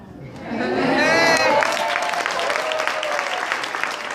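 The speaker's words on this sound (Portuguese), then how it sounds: "Isso é uma sala de palmas." Audience applause fills a hall, swelling quickly into a dense, sustained roar of clapping with a few voices calling out above it, then easing slightly while still going strong.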